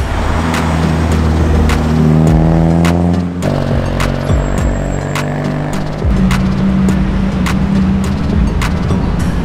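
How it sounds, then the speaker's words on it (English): A procession of Ferrari sports cars crawling past at a Sunday car meet in the Philippines, engines droning and revving with rising and falling tones, loud and close, several passes overlapping. "Here comes all the Ferraris."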